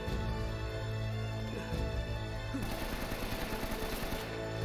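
Rapid gunfire bursts from the video game Uncharted break out midway and rattle on densely over a steady, droning music bed.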